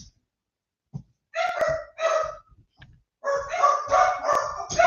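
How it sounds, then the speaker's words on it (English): Several indoor dogs bark in loud, repeated bursts, starting with a couple of separate volleys and building into a longer run of overlapping barks close by. "let me just let the dogs bark"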